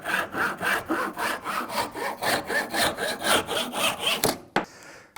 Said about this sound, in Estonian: saagimine peaks aset leidma alati väljaspool laua ala.